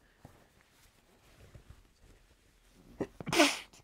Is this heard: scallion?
no